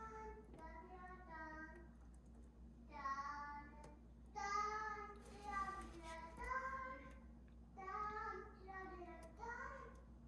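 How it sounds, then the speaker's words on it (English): A young child sings a tune from Star Wars, heard faintly in the background of a quiet room during a cake-spinner bloom pour painting session, the melodic phrases rising and falling over a low steady hum. "You can hear my son singing Star Wars in the background."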